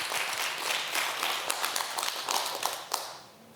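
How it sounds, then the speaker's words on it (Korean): A studio audience gives a short burst of applause on a Korean morning talk show, with scattered claps and a few sharper hits that fade out toward the end. "큰 박수로 청해 듣겠습니다."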